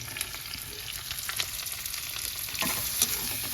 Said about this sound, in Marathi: कांदो किती वेळ भाजायचो लालसर होईपर्यंत